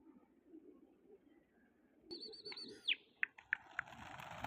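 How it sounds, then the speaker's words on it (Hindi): Soft outdoor background, then a sudden burst of wings flapping as pigeons take off, with sharp chirps and flutters nearby. "माशाल्लाह से कबूतर बड़ा उड़ रहे हैं"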